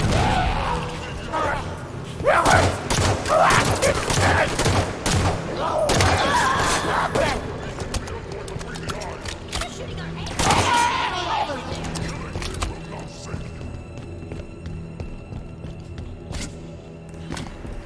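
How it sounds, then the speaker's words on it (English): A firefight in a Halo video game, with bursts of gunfire, thuds and impacts that come loud and dense early on and then thin out, under a character's spoken lines. "Hostile contact! Taking fire from that doorway!"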